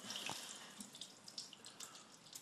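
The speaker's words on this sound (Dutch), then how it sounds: "Zodoende dat het laatste water hier ook uit kan." Quiet trickling and dripping water as the last water drains from a pool valve, a thin steady flow with small splashes, close by and without voices.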